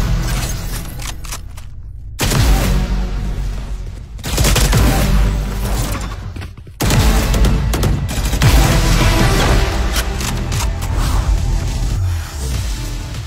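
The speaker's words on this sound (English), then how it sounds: "The kill banner has one of the most satisfying sounds" Valorant kill banner finisher effect from the video game: dense, loud layered bursts of gunfire-like crackle and whooshing swells, broken by two brief near-silent gaps before each renewed blast.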